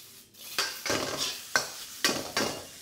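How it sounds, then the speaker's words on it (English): Onions stir-fried on high heat in a smoking-hot wok for a Hong Kong tomato egg dish: loud crackling sizzle with five rhythmic bursts as the spatula tosses them. "High heat, smoking hot, break up those onions, you don't want them to sort of wilt too much."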